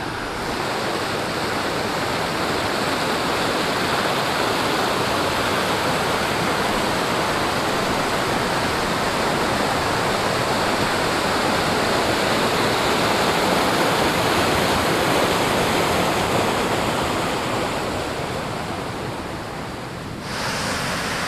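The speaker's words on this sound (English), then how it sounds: "See the creek runs down over the rocks there." A mountain creek on an Oregon trail near Ice Lake rushes over rocks, a loud, continuous broadband roar of running water close by, steady for the whole stretch with no voices.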